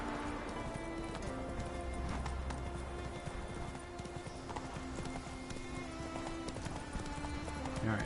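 A horse trots in The Witcher 3 video game, its hooves clip-clopping in a steady, continuous rhythm over a busy layer of ambient game sound.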